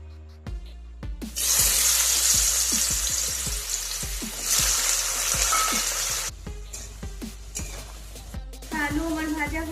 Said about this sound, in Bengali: তেলটা গরম হয়ে গেছে, তেলের মধ্যে আমি আলুটা ছেড়ে নেব,